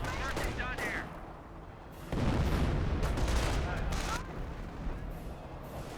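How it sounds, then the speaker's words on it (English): Artillery barrage and gunfire in the Company of Heroes 1 WWII strategy game, dense rumbling explosions and rattling shots in quick succession, with a heavy burst midway. "Direct hit there by the artillery barrage."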